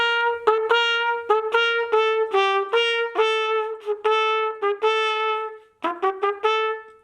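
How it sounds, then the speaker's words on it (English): Trumpet playing a school song straight as written, a clear solo melody of short, evenly tongued notes with one brief pause near the end. "if I play our school song on the trumpet and I just play it as written, it kind of sounds like this"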